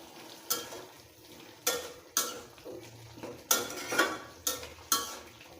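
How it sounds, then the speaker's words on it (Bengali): Vegetable stems and potatoes are stir-fried with rohu fish curry in a pan, a low close sizzle broken by repeated sharp scrapes and knocks of a spatula against the metal at an uneven, brisk rhythm. "এখন দিয়ে দেব ডাঁটা, আলু, এখন ভালোভাবে কষিয়ে নেব"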